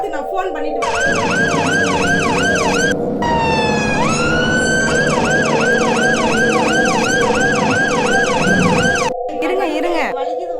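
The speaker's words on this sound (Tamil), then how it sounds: "ஆம்புலன்ஸ் வருது." A loud ambulance siren close by, wailing in a steady rapid up-and-down cycle, briefly shifting to a long rising sweep before resuming, continuous throughout with a vehicle engine rumbling underneath.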